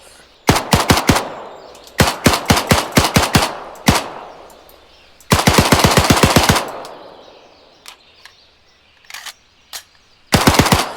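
Rapid bursts of automatic MP35 submachine gun fire in an Arma 3 war mod, several short volleys separated by brief pauses, with a few single shots in between; sharp and loud, with a slight delay in the sound.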